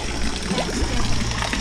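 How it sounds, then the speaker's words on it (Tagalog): Spring-fed water trickles steadily into an outdoor swimming pool at a campsite in Tanay, Rizal, a continuous close splashing dribble with no talk. "Yung source of water nila ay bukal, spring water. Ayan, tumutulo na yan."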